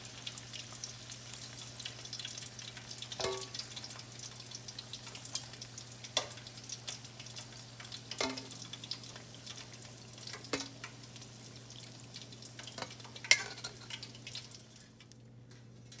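Okra fritters (bhindi pakora) refrying in hot oil, giving a steady close sizzle with scattered sharp pops and crackles throughout, and no voices.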